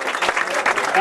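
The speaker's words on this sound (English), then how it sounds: "give a round of applause to Fraser Hynes" Wedding reception guests give a brief burst of applause for the best man, dense clapping overlapped by a voice speaking.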